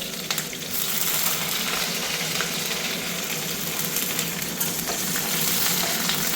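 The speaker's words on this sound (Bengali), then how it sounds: "লঙ্কাটার মধ্যে জল ছিল, তাই খুব চিট করছে" Green chillies and garlic frying in very hot oil, a loud continuous sizzle with sharp splutters and pops from moisture in the chillies, close up.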